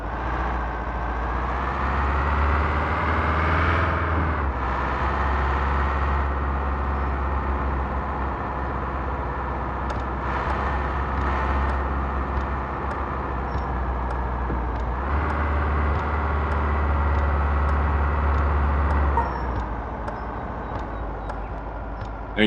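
Truck engine idling in Truck and Logistics Simulator, a steady low rumble that drones on without a break, with faint clicks and small shifts in tone over the top.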